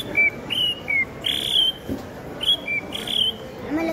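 A man whistles in imitation of a sparrow's call, with short, bright chirping notes repeated in quick clusters, close and clear over faint background noise.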